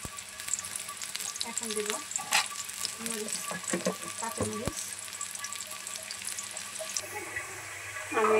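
Green chillies frying in oil in a wok, stirred with repeated scraping and clattering strokes over a continuous close sizzle, with a wetter hiss near the end and no talk.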